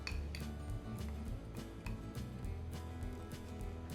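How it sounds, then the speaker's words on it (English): A whisk beats eggless cupcake batter and flour mixture in a bowl, with rapid, steady metallic clinks against the bowl sides, close up and continuous. "Whisk this really well."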